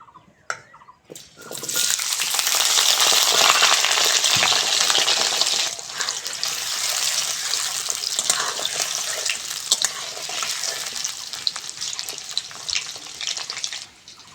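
Cut, washed potatoes frying in mustard oil in a wok, a loud, steady sizzling hiss that starts abruptly and holds for many seconds, with faint clinks at the start.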